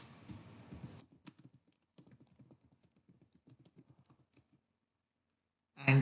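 Rapid keystrokes on a computer keyboard typing a folder name, a quick uneven run of close clicks after a short burst of noise, then silence before a brief loud thump at the end.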